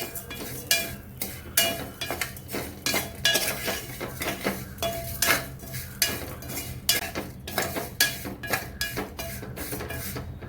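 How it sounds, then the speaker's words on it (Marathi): Vermicelli roasting in ghee in a pan, with repeated sharp metallic scrapes and clinks of a spoon stirring against the pan in an irregular rhythm, close and fairly loud, with a faint sizzle beneath. "थोडंसं तूप टाकलेलं यावरतीच मी आता शेवाळ्या भाजून घेणार आहे"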